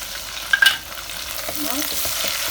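Curry leaves hit hot oil with chopped garlic and ginger already golden, making for a dal palak; a sharp crackle and spatter burst at first, then a steady close sizzle with light stirring scrapes.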